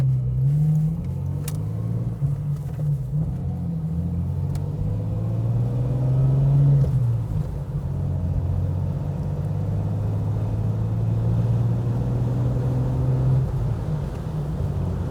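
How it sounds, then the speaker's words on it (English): A manual-transmission car is driven on a main road in cold weather, its engine rumbling and rising as it accelerates, with pitch shifts marking gear changes, heard from inside the cabin without talking. "I'll do a couple shifts here, kind of show you guys on the main road."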